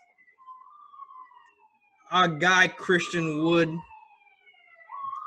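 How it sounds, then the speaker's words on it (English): A police car siren wails faintly in the distance, its tone rising and falling, while someone talks loudly over it partway through. "If you hear the sirens in the background"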